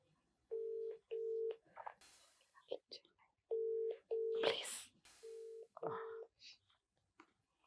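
Phone call being placed: bursts of keypad dialing tones come in three separate runs, each followed by pauses, with people talking and shuffling in between; no clear ringing stands out.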